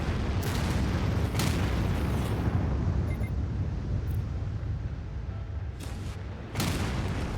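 Rumbling missile explosions in the Anno 2205 strategy game, a dense continuous roar of booms with several sharper blasts standing out, loud and sustained with no talking.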